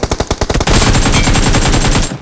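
Rapid automatic gunfire in PUBG on the Livik map, loud and close, starting as a few spaced shots and then running into a sustained burst of fast rounds for about two seconds.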